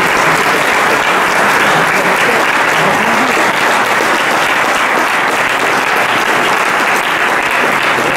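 An audience applauds after a debate on free movement, with steady, dense clapping from a full room that holds at an even level throughout, with no voices rising above it.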